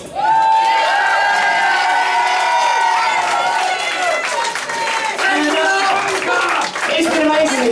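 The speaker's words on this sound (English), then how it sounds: "Can I have a massive clap for, not the clap, Give me the clap. a clap for Lee Corns." A convention audience gives loud, sustained clapping and cheering for a guest, a dense wash of applause with voices shouting over it from start to finish.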